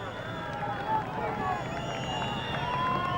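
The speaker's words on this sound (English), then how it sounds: "you can hear the crowd just whistling them around the course" Spectators whistle along the course of a rain-soaked 1999 Tour of Spain cycling stage, a dense wash of crowd noise with thin whistle tones drifting over it, steady and moderately distant.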